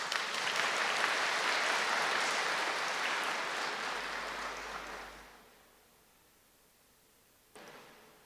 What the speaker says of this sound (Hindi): खुशी से ताली बजा सकते हैं